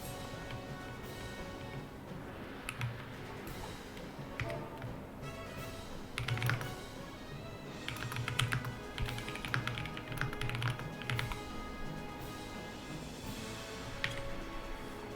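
Rapid clicking on a computer keyboard during a PC game speedrun, with irregular bursts of close, quiet key taps over a faint steady background hum.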